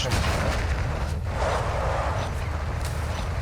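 Gunfire in Call of Duty: Modern Warfare II Warzone 2.0 DMZ rumbles as a sustained, muffled barrage of low booms and bursts, with players talking over it.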